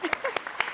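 Audience at a school board candidate forum clapping, a few distinct claps scattered over a short moment with a voice speaking among them.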